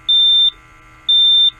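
An RKI Eagle 2 portable gas monitor sounds its low-oxygen alarm: two identical loud, high-pitched electronic beeps, each about 0.4 seconds, spaced about a second apart.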